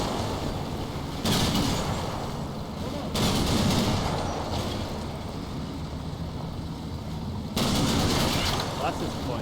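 Gunfire and explosions rumble in Combat Mission Battle for Normandy, dense bursts of heavy firing arriving in three loud waves separated by quieter stretches of background battle noise.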